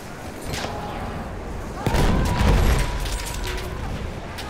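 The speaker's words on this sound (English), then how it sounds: "I chucked grenade at it" A grenade in the video game Battlefield 1 goes off with a heavy low boom that swells midway, set against distant gunfire and battlefield noise.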